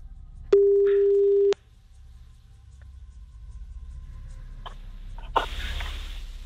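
A phone call to a friend: one long steady ringback tone sounds, then silence with faint background hiss, followed by a couple of short clicks and a rustling noise as the line picks up.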